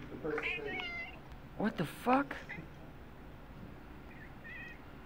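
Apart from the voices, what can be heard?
cat meowing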